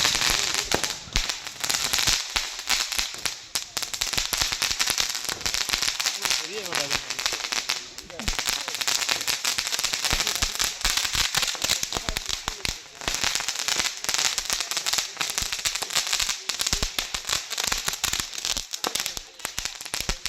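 Villagers set off firecrackers to welcome a bus, a dense, continuous barrage of sharp crackling bursts, loud and close, with crowd voices mixed in.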